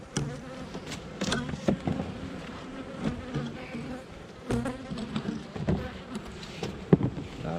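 Honey bees buzzing around an opened hive holding honey in its top frames and capped brood, a steady close insect drone with swelling, wavering pitch and no talking.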